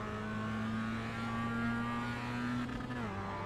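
A Mazda MX5 or Skip Barber race car in the iRacing game at Donington climbs steadily in engine pitch under acceleration, a sustained buzzing drone with tyre and road noise before the revs dip near the end.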